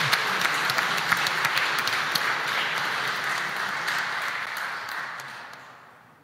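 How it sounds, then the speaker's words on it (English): Church congregation applauding the ushers during a Corpus Christi Mass, a dense, steady wash of many hands clapping at moderate distance that holds for several seconds and then fades out toward the end. "Let's give a big round of applause to our ushers as well."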